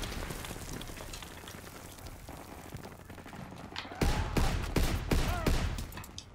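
Call of Duty: WWII battle gunfire, a rapid string of loud sharp rifle shots cracking in quick succession over a steady wash of combat noise and rain-like hiss.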